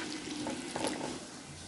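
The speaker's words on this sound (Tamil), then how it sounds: "ஒரு முக்காட்டம்ல தண்ணி ஊற்றிக்கிறேன் இந்த வெள்ளைப்பாகு கரையிறதுக்கு" Water pours into a pan to dissolve jaggery for rice puttu, a soft, brief trickle and splash, quiet and close, with no voices.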